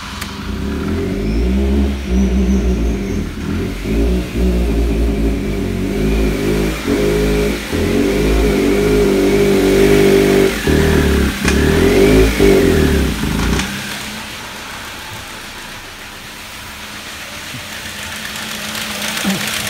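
A Ford Mondeo Mk3 with a 2.0 Duratec engine that is hard to start and unable to rev, loud and close as it idles and revs unevenly for about thirteen seconds before cutting out, leaving quiet.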